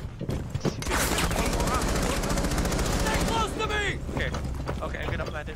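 Rapid automatic gunfire in a first-person shooter game, a loud sustained burst of rattling shots lasting several seconds, then scattered shots and a spoken voice.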